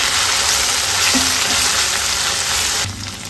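Onions frying with mint and coriander leaves in a pan for a long beans (cow pea) masala curry, a steady loud sizzle throughout that drops off slightly near the end.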